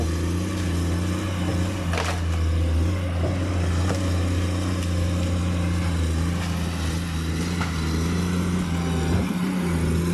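New Komatsu PC210 excavator with a six-cylinder turbo diesel engine working forest-clearing ground, a steady loud low drone with a constant hum and occasional sharp clanks, no voices.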